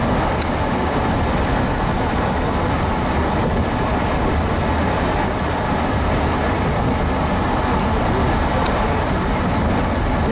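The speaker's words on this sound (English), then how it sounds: "He's a moving train with us." An intermodal freight train moves past with a loud, steady, close roar and rumble that continues without a break for the whole stretch.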